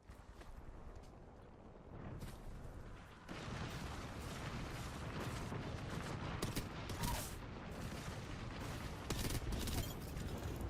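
Bangalore's ultimate artillery barrage in Apex Legends pounds down as a rapid, continuous string of explosive impacts, steady and dense for several seconds.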